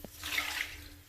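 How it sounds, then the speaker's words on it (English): A mix of water and OxiClean is poured onto a plastic shower floor mat, making a short, soft splashing rush that swells and fades within about a second. "I'm gonna pour my solution of water"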